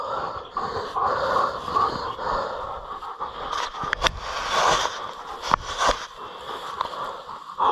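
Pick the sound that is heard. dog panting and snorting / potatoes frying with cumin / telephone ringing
dog panting and snorting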